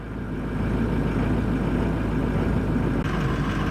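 A camper truck's engine idles steadily while its alternator charges the camper battery, a continuous low rumble with a constant hum that holds an even level throughout, with one brief dip near the end and no talking.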